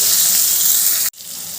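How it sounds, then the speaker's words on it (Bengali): Radish pieces frying in hot oil make a loud, steady sizzle that cuts out abruptly near the end and then resumes at a slightly lower level. "এবার ওই তেলের মধ্যে দিয়ে দিলাম মুলোগুলো দিয়ে একটু হালকা করে ভেজে নেব"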